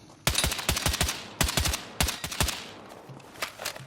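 TR7 rifle fired in Battlefield 6: sharp automatic bursts of several rapid shots each, repeated in three or four clusters with brief pauses, loud and close, no talking.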